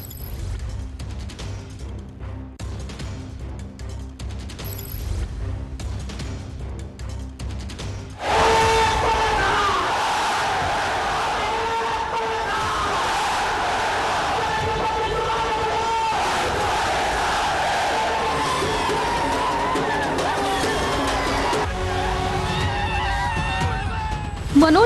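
Protesters in Mumbai's Azad Maidan celebrate after a hunger strike ends, a loud, dense crowd roar with shouting and cheering that swells sharply after a quieter stretch and stays sustained.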